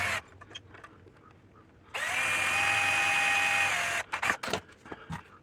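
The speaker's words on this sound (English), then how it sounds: "then we're gonna drill our side panel" A power drill bores into the side panel of a kitchen drawer being rebuilt, one loud steady whir of about two seconds that winds down, with quieter handling knocks and clicks before and after.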